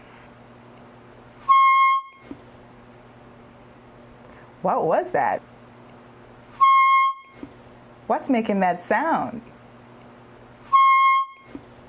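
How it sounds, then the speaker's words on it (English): An air horn blasts three times, each a loud, steady tonal honk of under a second, spaced evenly apart; between the blasts a voice speaks over a faint background hum. "It's an air horn."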